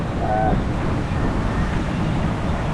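Strong wind roars steadily against the microphone while sea waves surge and wash nearby on the coast at Bucana, a continuous loud rushing with no pauses.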